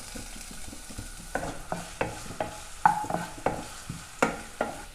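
Ginger sizzles in coconut oil in a pan, with a steady frying hiss and rhythmic, close scrapes and taps of stirring.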